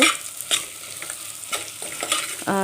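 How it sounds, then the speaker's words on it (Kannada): Washed pigeon peas frying in oil, a bright continuous sizzle with sharp spatter and several quick scraping stirs, close and fairly loud, with no voices. "ತೊಗರಿ ಕಾಳನ್ನು ತೊಳೆದು ಇಟ್ಕೊಂಡಿದ್ದೆ ತೊಳೆದು ಡೈರೆಕ್ಟ್ ಎಣ್ಣೆ ಒಳಗೆ ಈ ಥರ ಫ್ರೈ ಮಾಡ್ಕೋಬೇಕು ಎರಡು ನಿಮಿಷ"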